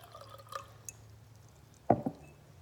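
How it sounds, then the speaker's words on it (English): Water is poured into a glass jar in a quiet room, starting as a few soft drips and ending in a short splashing pour near the end. "The second one, I'm gonna fill it about halfway up."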